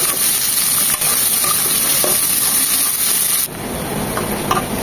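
Chopped onions fry in hot oil with whole spices, making a loud, steady sizzle that runs unbroken throughout, with faint stirring scrapes and no voices.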